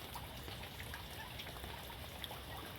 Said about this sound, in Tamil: மழை பெய்ஞ்சு தண்ணி எவ்வளோ ஓவர் ஃப்ளோ ஆகுதுன்னு பாருங்கள்